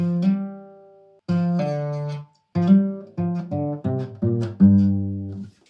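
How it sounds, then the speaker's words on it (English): A guitar plays a short run of legato hammer-ons and pull-offs, each note sliding into the next in uneven bursts separated by brief pauses, clear and close. "hammer-ons where you're actually using your finger on the fretboard to trigger another"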